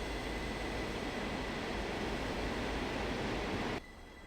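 A train passes in Run 8 Train Simulator with a loud, steady rumble of rolling wagons close by, then cuts off sharply near the end.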